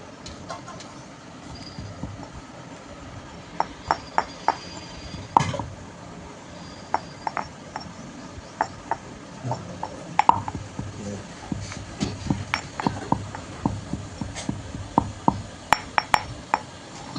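Chili powder and salt get pounded in a mortar, sharp irregular knocks and clinks repeating at an uneven pace over a low background hum, with a voice talking intermittently.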